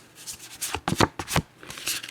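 Sacred Bee tarot cards are riffle shuffled up close, giving a few quick papery bursts of fluttering, slapping card edges over about two seconds, with no voice.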